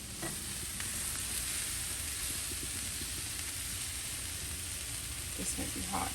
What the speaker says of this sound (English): I just fry them on the cast iron skillet.